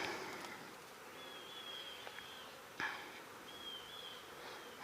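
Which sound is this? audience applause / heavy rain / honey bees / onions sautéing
honey bees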